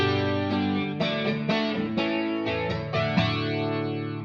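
An electric guitar through an HX Stomp with a stereo double tank reverb plays distorted chords in a steady rhythm, each strum washing into a lush, spacious reverb tail.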